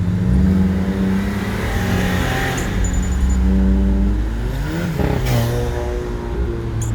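A 2001 Porsche 911 Carrera 4 (996) flat-six revs up and down through Tiptronic upshifts and downshifts, loud and close from inside the car, with engine pitch climbing, dropping at each shift, and climbing again.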